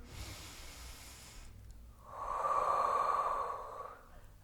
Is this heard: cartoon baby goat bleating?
no